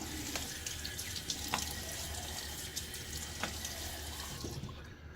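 Water runs steadily from a bathroom tap as a face is wetted before a wet shave, a continuous soft splashing with a few small drips and splashes, close by and with no talking.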